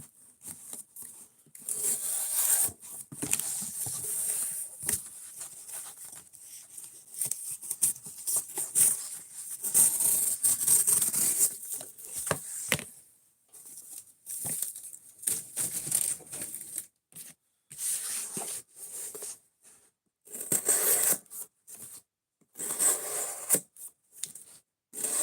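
Elmax steel knife being sharpened: irregular bursts of scraping, rasping strokes, moderately close, separated by short pauses, with no talk.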